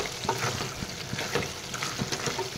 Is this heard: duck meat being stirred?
yes